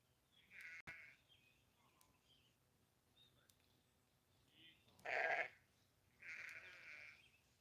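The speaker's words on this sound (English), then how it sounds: "I don't want the sheep to go too far forward." Sheep grazing on a smallholding bleat a few times, one short faint call early and then two louder, nearer bleats toward the end over quiet outdoor background.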